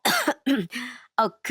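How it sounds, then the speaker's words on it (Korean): An older woman, a mother-in-law, coughs after choking, in a quick run of close, harsh coughs and throat-clearing bursts, mostly alone. "콜록콜록 대면서 당황하시더라고요"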